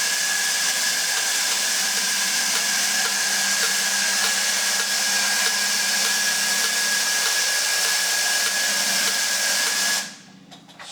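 Compressed air hisses in a steady, loud, close blast as it blows down the motor of a Japanese-made toy robot, holding constant for about ten seconds before cutting off abruptly.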